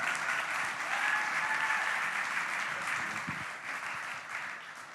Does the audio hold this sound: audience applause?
yes